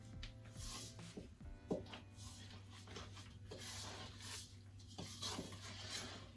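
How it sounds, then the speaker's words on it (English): A wooden spoon stirs cookie batter of egg and wet ingredients in a bowl, giving soft scraping and knocking strokes in an irregular rhythm over a steady low kitchen hum, with one sharper clunk partway through. "it says just to stir this with a wooden spoon, so let's stir"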